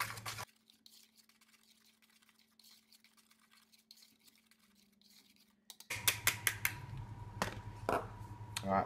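A protein bread mix with stevia is whisked in a bowl. A quiet stretch with a low hum comes first, then loud, brisk scraping strokes and clicks fill the last few seconds.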